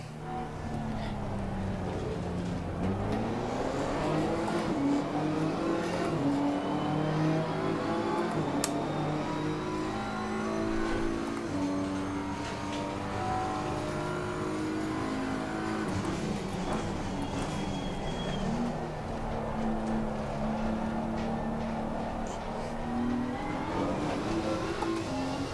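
Race car engine in Assetto Corsa Competizione at Watkins Glen, rising and falling through the gears with sharp drops in pitch as it downshifts into a corner, then climbing again, steady and close with no talk.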